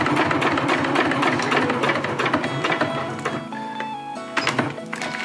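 A sewing machine runs a lock stitch down the middle of a Dyneema fabric stuff sack, a close, continuous mechanical whirring and rapid needle clatter that eases slightly near the end.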